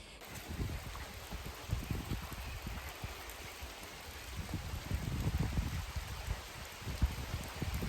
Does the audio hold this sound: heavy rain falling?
yes